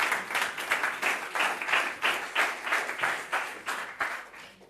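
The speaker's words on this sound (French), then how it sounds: "Des applaudissements." Audience at a tech awards evening clapping in a steady rhythmic unison, the beats pulsing regularly and evenly for several seconds with no talk over them.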